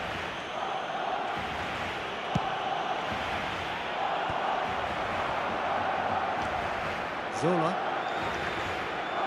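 A stadium crowd roars steadily throughout an eFootball 2026 football match with Barcelona playing, a constant dense wash of fans under a commentator's continuous talk.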